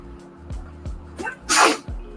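A single sharp human sneeze cuts through a quiet indoor sculpting session, preceded by a few soft clicks and small handling sounds, then a brief trailing noise.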